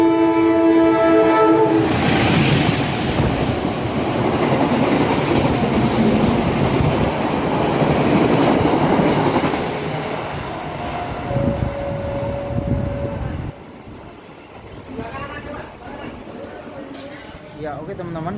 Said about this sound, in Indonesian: kita rekam dulu yuk kereta api Erlangganya.